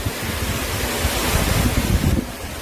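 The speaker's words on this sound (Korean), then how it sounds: "2단 폭포요. 용현 폭포." Yonghyeon waterfall, a two-tier fall in Juwangsan National Park, roars as a loud, continuous rush of falling water, close and steady with some wind noise.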